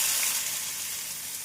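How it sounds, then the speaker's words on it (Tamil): Mustard seeds, urad dal and cumin splutter in hot oil with a steady, close, bright crackling sizzle that fades slightly, with no talking. "எண்ணெய் சூடானதும் 1 ஸ்பூன் கடுகு, 1/2 ஸ்பூன் உளுந்து, 1/2 ஸ்பூன் ஜீரகம் சேர்த்து விடலாம். நன்றாக பொரியவும்"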